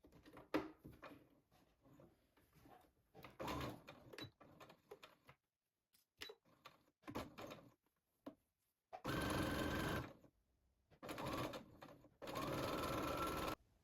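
A sewing machine stitching fabric, running in bursts of rapid needle chatter with short pauses and clicks between, close and fairly quiet, ending in two longer steady runs.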